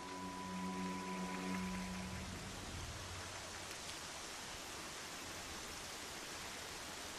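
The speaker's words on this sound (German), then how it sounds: "Oh, muss das jetzt regnen?" Steady broadband rain in the video game Horizon Zero Dawn, a dense continuous hiss heard alone at a low level, with a brief tonal game sound fading out near the start.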